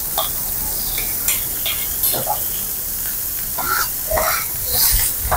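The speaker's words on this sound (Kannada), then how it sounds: "ನೋಡಿ, ಜಸ್ಟ್ ಇದು ಫ್ರೈ ಮಾಡ್ಕೊಂತಾರೆ." Kothu parotta fries on a griddle with onion, tomato, curry leaves, green chilli and coriander. Sizzling hiss is broken by sharp metallic taps and scrapes, and a voice talks over it.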